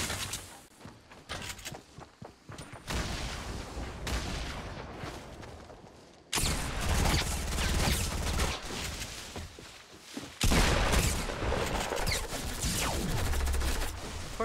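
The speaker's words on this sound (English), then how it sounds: "Is that P90 burst?" Video game gunfire rattles in quick bursts from a P90, sharp rapid shots clustering into loud fusillades that come in at several points, with a louder sustained stretch in the second half.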